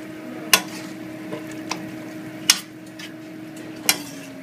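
A vegetable lasagna sauce cooks in a pot, with a few sharp metallic clinks of a utensil against the pot standing out over a low, steady kitchen hum and soft bubbling, with no voices.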